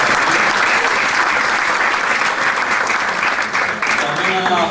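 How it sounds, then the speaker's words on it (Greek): Dense, sustained applause from a lecture audience, loud and continuous throughout. "θα ήθελα ειδικά για τον καθηγητή και για το ΙΜΟΠ να χειροκροτήσουμε όλοι μαζί."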